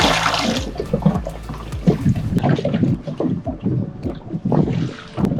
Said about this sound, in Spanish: es cuando llueve, vaciar el dinghy que se llena de agua